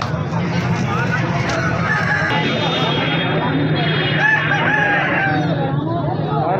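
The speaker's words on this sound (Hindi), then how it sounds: "हर तरफ मुर्गियाँ ही मुर्गियाँ," Roosters crow and chickens cluck at a busy Aseel rooster market in Rawalpindi, Pakistan. The crowing comes through a constant crowd babble and nearby talking.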